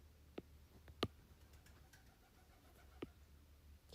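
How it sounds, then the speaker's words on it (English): Pigeons cooing outdoors, heard faintly from inside a room: a few soft, separate coos and clicks spaced over a few seconds against a quiet background hum. "Can hear the pigeons outside."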